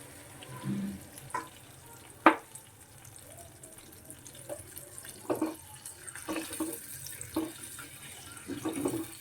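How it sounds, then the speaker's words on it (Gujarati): Water poured into a pan of stuffed bitter gourd curry runs and splashes intermittently against the metal, with a few sharp clinks, fairly close and moderately quiet. "હવે થોડું પાણી એડ કરી દઈશું"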